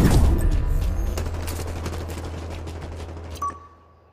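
Gunfire during a live fire exercise in Halo Infinite, a loud, heavy burst of rapid automatic shots with a deep booming low end, fading out over a few seconds into a short electronic tone.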